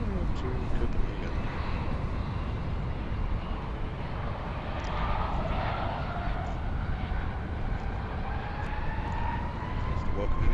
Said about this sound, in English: It's 320, Airbus 320 to Copenhagen.